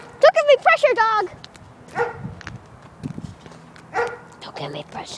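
A dog barks in a quick burst of several sharp, close barks at the start, followed by softer scattered yips and whimpers, with a person speaking at moments in between.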